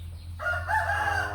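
A rooster crows loudly and close by, one long, sustained cock-a-doodle-doo over a steady low background hum.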